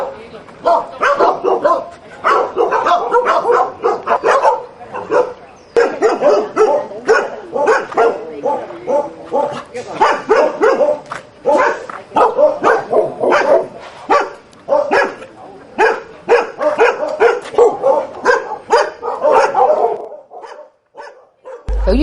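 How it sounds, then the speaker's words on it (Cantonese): Dogs bark over and over in an animal shelter where sick dogs are kept in separate cages, a loud, crowded run of overlapping barks and yips close by with little pause, ending abruptly. "呢度全部都係有病嘅狗咧，所以佢獨立飼養"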